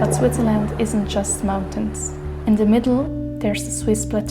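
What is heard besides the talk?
No everyday noises stand out.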